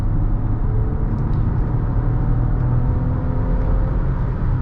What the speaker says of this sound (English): Getting on the highway here, we'll give it some gas.